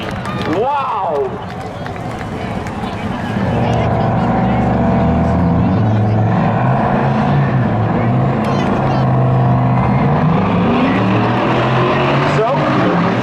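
Race trucks roar side by side off the corner at Seekonk Speedway during spectator drags, engines swelling loud and near under continuous excited commentary, with a crowd in the background.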